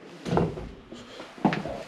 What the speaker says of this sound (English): If I could open the door.